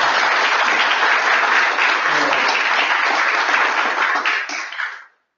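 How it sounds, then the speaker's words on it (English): A large audience applauds at a tech community meetup, a dense, steady wash of clapping that stays loud for about five seconds before quickly dying away. "So big applause for everybody."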